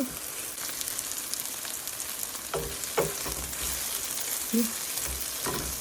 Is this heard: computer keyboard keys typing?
no